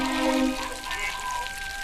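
Water leaking in the Ghost Master video game, a steady pouring trickle with faint dripping under sustained tonal game hums.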